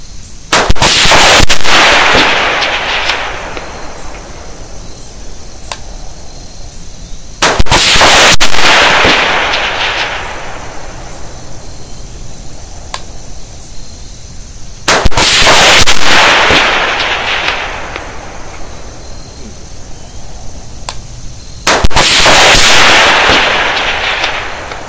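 Rifle shots fired at a 700-yard target during a Primary Arms 3-18 FFP ACSS scope test, four loud sharp reports spaced roughly seven seconds apart outdoors, each followed by a long rolling echo that fades before the next, with no talk.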